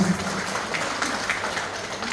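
Crowd clapping fills a church service steadily for a couple of seconds, a dense, even patter of many hands at moderate volume.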